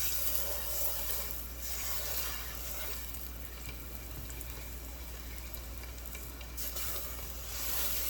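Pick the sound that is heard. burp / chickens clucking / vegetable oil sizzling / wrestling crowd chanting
vegetable oil sizzling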